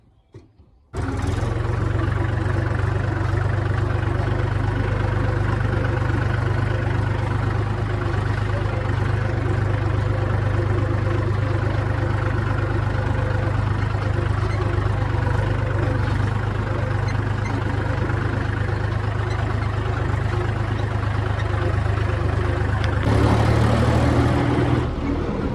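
A Mahindra tractor engine, modified, idles steadily and close by with a deep, even low-frequency throb, running alone for the whole stretch after it starts, with a slight rise in level near the end.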